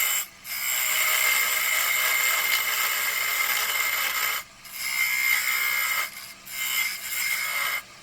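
A hand tool rasps against a wooden tenon in repeated strokes, each pass a bright scraping burst of a few seconds separated by short pauses, close and fairly quiet.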